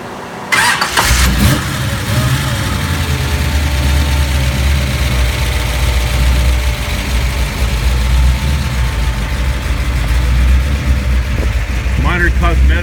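1968 Plymouth Roadrunner tribute with a 600 hp 440 V8 cranks and fires up, then settles into a loud, steady, rumbling idle close by, with a brief blip near the end.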